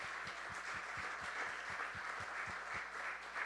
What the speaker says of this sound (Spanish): Dele ese fuerte aplauso al Señor